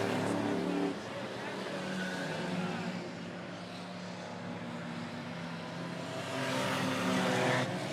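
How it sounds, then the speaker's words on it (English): Race cars roar down the front stretch at Monett Motor Speedway during a feature race: a dense, continuous engine drone that stays loud throughout and swells again near the end, with a voice talking over it. "Gillis looking to the inside of DeWitt as they make their way down the front stretch"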